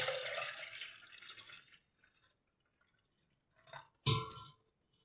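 Ragi and green gram being washed in water, a close splash and pour of water that fades into near silence, followed by two brief sloshing bursts.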